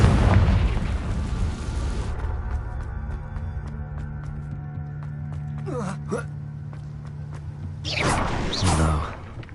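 A Confringo blasting spell explodes in Hogwarts Legacy with a loud, deep booming burst that rolls off into a low rumble. A second heavy blast erupts near the end.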